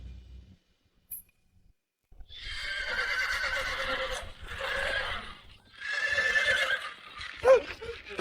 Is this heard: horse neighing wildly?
yes